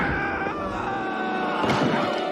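The Chucky doll in a Child's Play film scene lets out a loud, strained, sustained male scream after being shot, lasting about two seconds with a harsh swell near the end.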